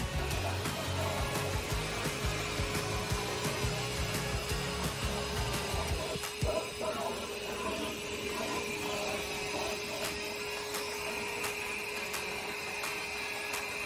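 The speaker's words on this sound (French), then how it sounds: "Vous pouvez voir l'efficacité de ce souffleur pour nettoyer l'ensemble des petites poussières." A Kärcher WD 1 cordless wet-and-dry vacuum run in blower mode, clearing fine dust from a car, gives a steady loud whooshing airflow with a motor whine that holds throughout and dips briefly midway.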